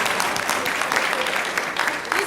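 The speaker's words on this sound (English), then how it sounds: "Y'all can clap for that." Dense, steady applause from a conference audience at a gathering on Black women organizing and voting, a continuous wash of many hands throughout with voices mixed in underneath.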